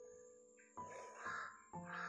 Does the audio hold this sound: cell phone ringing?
no